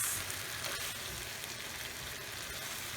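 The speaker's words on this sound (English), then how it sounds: "Ampalaya goes in. And give it a little mix." Ampalaya (bitter melon) stir-fried with shrimp in a pan, a steady close sizzle and crackle with a brief stirring scrape, no talking.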